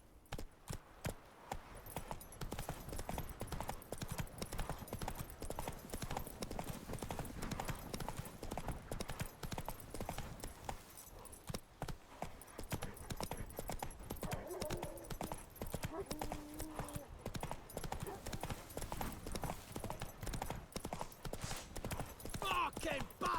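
Roach the horse trotting in The Witcher 3, a steady run of clip-clop hoofbeats lasting throughout, loud and close, with game music, ambience and occasional voices underneath.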